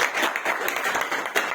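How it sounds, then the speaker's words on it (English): A room of people at a meeting gives a round of applause for the sponsors, continuous brisk clapping from many hands at a fairly close, even volume. "We will have a big round of applause for our sponsors."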